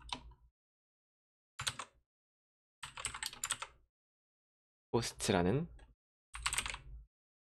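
Typing on a mechanical keyboard, with keys occasionally registering twice, comes in short separated bursts of close clicking during a coding tutorial, with someone speaking Korean between and over them.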